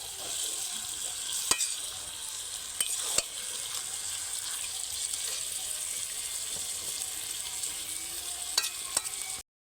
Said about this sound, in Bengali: মিডিয়াম আঁচে চিকেনটাকে আমি 10 মিনিট মতো কষে নেব।